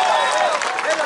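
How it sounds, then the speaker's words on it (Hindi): Crowd applause and cheering at a political rally speech by Navjot Singh Sidhu, a dense, steady wash of clapping filling the whole moment without a pause. "ठोको ताली ठोको"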